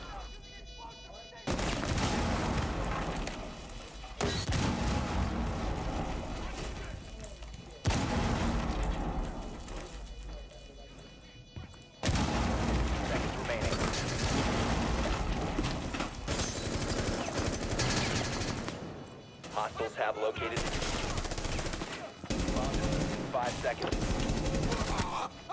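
Rapid gunfire and explosions from a shooter video game with claymore mines, dense bursts of automatic fire and booms filling most of the stretch with brief pauses, while players talk excitedly over the action.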